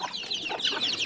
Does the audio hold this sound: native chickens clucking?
yes